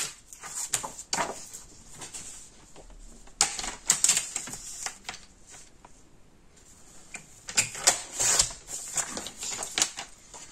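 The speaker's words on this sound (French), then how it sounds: "il va falloir couper ici" Paper being cut by hand for a dinosaur-themed scrapbook album page, a close run of crisp snips and scratchy strokes in bursts, with quieter handling in between and no talk.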